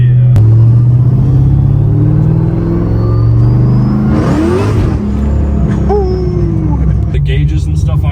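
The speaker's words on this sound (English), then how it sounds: "They tell me to rev the car, or things like that." A modified 700 WHP 2009 Pontiac G8 rumbles loudly up close, its deep engine note rising and falling with revs, while someone talks over it.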